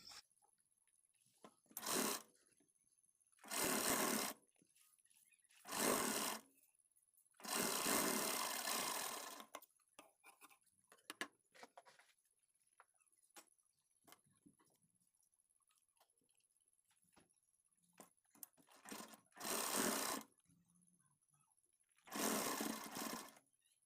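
A sewing machine stitches a bottom strip onto a sleeve in close, loud whirring bursts of one to two seconds each, about seven runs separated by quiet pauses with small handling clicks.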